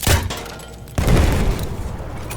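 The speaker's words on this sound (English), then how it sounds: "So what does this thing do? Fires a grenade." A grenade launcher fires twice in Battlefield 1. Each shot is a sharp, loud boom followed by a brief rumbling tail, about a second apart, with no voices.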